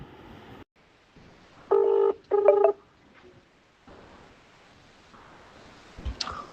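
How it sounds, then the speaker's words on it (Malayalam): Telephone dialing tones from a phone call sound as two short, steady electronic beeps in quick succession, clear and loud against quiet line hiss and faint clicks. "നമുക്ക് ഈ ഫോൺ കോള് നമുക്കൊന്ന് കേട്ടു നോക്കാം"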